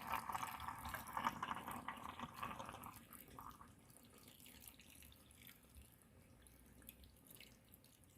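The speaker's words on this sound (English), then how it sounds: "So now we are going to pour in the soup." Beef stew broth for Kenyan-style beef tumbukiza being poured into a pot, a steady close liquid splash that is loudest at first and then thins to a softer trickle.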